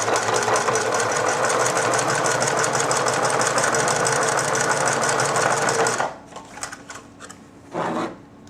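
A sewing machine stitches a straight seam in fabric for a reusable snack bag, running steadily and loudly up close for about six seconds, then stopping, with a few faint handling sounds and a brief final run.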